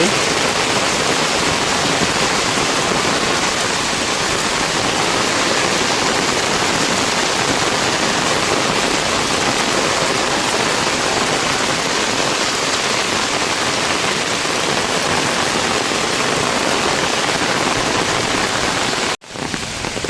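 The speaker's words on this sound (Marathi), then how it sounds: "मित्रांनो, नदीला पाणी आलं आहे." A river swollen after rain rushes past in a steady, full roar of flowing water, continuous and close throughout, with a brief cut near the end.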